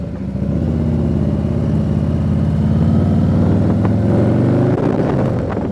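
A Harley-Davidson motorcycle with a performance engine upgrade rumbles loudly and close by, a deep steady V-twin throb holding through the whole stretch with slight swells as it pulls away.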